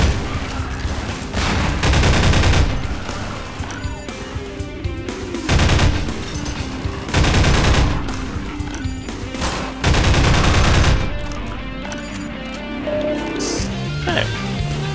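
Loud bursts of rapid automatic gunfire and pulse-rifle blasts from a Half-Life 2: Episode 1 firefight come in several heavy volleys between brief lulls, with a player talking over the shooting.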